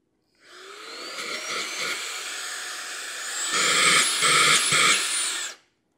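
A small handheld car vacuum motor whirs up to a steady high-pitched hum on its first speed, then steps up to a louder, higher second speed before cutting off.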